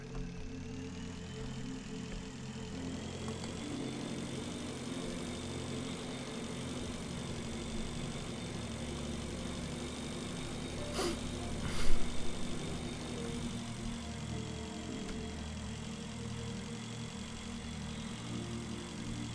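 Idling engines of an obsolete type run in a steady, continuous low rumble with a persistent hum throughout, swelling briefly to a slightly louder burst midway before settling back to the same even drone.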